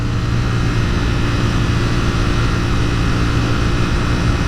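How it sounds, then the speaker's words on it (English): A CFMoto 450SS motorcycle of about 50 horsepower accelerates uphill with a loud, steady, continuous engine roar and road rush that holds constant throughout, with no talking. "we're cruising uphill and I still have power to accelerate on this bike"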